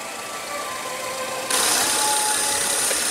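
A 2015 Ford Explorer's 3.5-liter twin-turbo EcoBoost V6 idles steadily close by, its hum jumping louder and brighter partway through as the engine note rises, with no talk over it.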